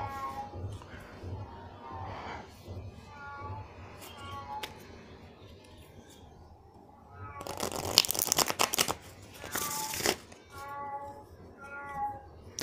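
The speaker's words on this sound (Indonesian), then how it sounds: "kamu punya kucing yang caper gak sih itu dia caper banget loh" A cat meows for attention in a short series of drawn-out calls spaced a few seconds apart, with a burst of shuffling or rustling noise in the middle.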